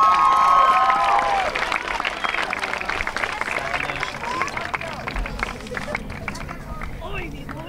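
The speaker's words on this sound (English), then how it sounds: "Have a round of applause." Audience applause and cheering at a middle school class of 2023 promotion ceremony, a dense, sustained wash of clapping and crowd noise that fades slowly, with a brief voice at the start.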